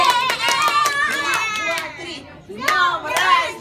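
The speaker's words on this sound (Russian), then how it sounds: "И мы все громко хлопаем." Children clap loudly together at a fifth birthday party, sharp rhythmic hand claps mixed with excited young voices calling out close by.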